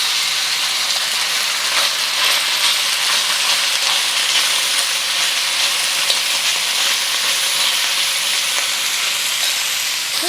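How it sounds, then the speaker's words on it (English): Beef sears in hot vegetable oil in a wok, a loud, dense, continuous sizzle and crackle close by that stays even throughout, with no voices. "Once you see a wisp of smoke, add 2 tablespoons of vegetable oil. And adding your beef."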